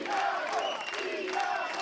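A large crowd of fans at a WTCC touring car race in Portugal cheers and roars in a steady, dense wash of voices heard from a distance, with no individual words standing out.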